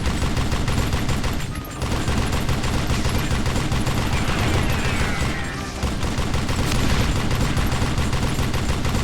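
Rapid gunfire in the Western shooter Call of Juarez: Gunslinger, loud bursts of shots packed into a continuous fusillade with two brief dips, dense and close throughout.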